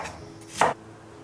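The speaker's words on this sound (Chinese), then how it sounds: "萝卜刨去皮后，把它切成短刀块。" A knife cuts through peeled radish into chunks in one crisp, close chop on a cutting board, surrounded by quiet kitchen background.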